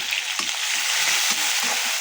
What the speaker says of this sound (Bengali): এটা আমি তেলেই কষায় নিতেছি।